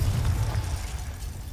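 Confringo blasting spell going off in a Harry Potter video game, a dense rumbling burst with heavy low boom that holds steady through the short moment.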